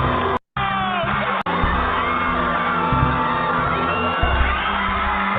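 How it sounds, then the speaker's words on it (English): A large crowd cheers, whoops and yells with scattered clapping, steady and loud throughout, played back from a video with brief dropouts of sound. "People clapped and cheered"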